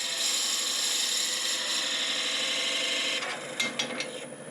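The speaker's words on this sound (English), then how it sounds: "next step now is to drill the main channel through" A 1 1/16 drill bit bores the main channel through a wooden pepper mill blank, giving a steady, loud grinding whir that changes and turns choppier near the end.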